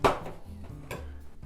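A knife slices through a ripe mango with a thin seed, giving two close, quiet cutting knocks with soft scraping between them.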